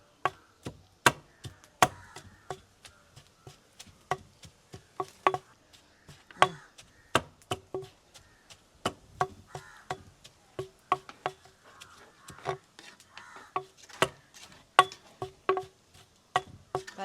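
Roasted chillies pounded by hand in a traditional Jaffna kitchen, a steady series of sharp, close thuds with uneven rhythm and brief pauses, with no talking over them.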